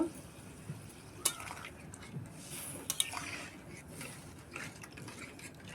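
Potato and egg curry stirred in a pot with a little water, giving soft, irregular scraping and wet shuffling with a few sharper clinks of the spoon against the pot, fairly quiet throughout.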